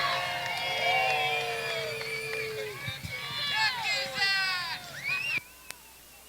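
A crowd cheers and whoops for driver Martin Roy as he climbs onto his car's roof at a motorsport event, with a loud PA announcer's voice over the noise and shouts rising and falling around him.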